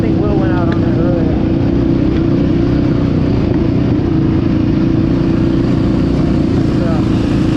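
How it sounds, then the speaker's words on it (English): A small mini bike engine runs steadily on a dirt track at Busco Beach, a constant buzzing drone under loud outdoor ambience. "Look at the little guy on the little mini bike."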